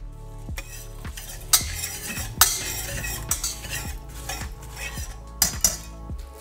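Onion, garlic and spring onion stirred in a pan for chicken inasal, the stove still off, so a spoon scrapes and clanks against the metal in irregular close strokes with a faint sizzle and no talk.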